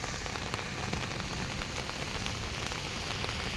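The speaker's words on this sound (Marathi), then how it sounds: "काल प दुपारपासून मुसळधार पाऊस सुरू आहे" Heavy monsoon rain pours down in Chiplun, a dense, even hiss of drops hitting surfaces, close and constant with no voices.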